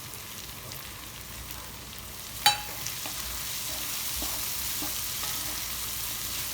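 Sweet corn and mushrooms frying in a pan for an au gratin toastie give a steady, even sizzle, with one sharp clatter partway through before the crackling settles back to a constant hiss.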